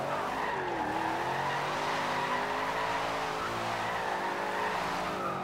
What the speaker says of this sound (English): Okay, I'm already wheel spinning. I'm barely touching the gas.